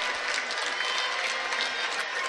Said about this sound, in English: making the crowd here in Sandviken, his former home crowd, applauding